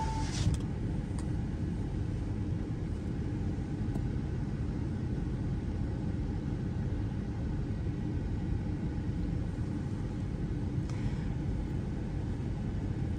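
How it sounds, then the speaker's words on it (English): Diesel pickup truck engine idling steadily at a fuel pump, a continuous low rumble holding even and fairly close throughout with no speech, only faint brief clicks and higher knocks scattered over the drone. "Here, on pump 4, a diesel pickup."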